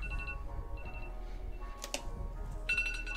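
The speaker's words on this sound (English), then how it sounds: "That's my normal 9 a.m. X-wing alarm going off." A phone alarm set to an X-wing tone goes off at a tabletop miniatures tournament, a run of bright electronic beeps and chirps repeating through the clip over faint background noise.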